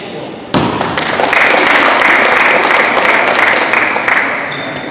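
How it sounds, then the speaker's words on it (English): Audience at a coaching clinic bursts into loud, close applause that swells and holds steadily for several seconds before starting to fade, with a sharp thump at the start. "Again, give her a round of applause."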